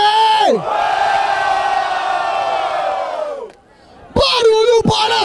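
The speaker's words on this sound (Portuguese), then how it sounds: "Barulho para as rimas do Mike!" A crowd at the grand final of a rap battle in Barueri, São Paulo, erupts in a loud, sustained roar of cheers and whoops, with a shouting voice at the start and again at the end.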